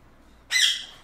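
A house martin chick gives one sharp, loud squawk while being hand-fed, a brief high-pitched rasping call after a quiet start that fades out over the second half.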